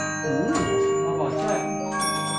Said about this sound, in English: The music wheel and the bells are playing here.